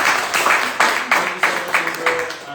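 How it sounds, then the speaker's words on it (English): An audience at a homebuying seminar applauds a presenter with a burst of clapping that pulses in a loose rhythm, with some talking underneath. "Can we give her a round of applause, please?"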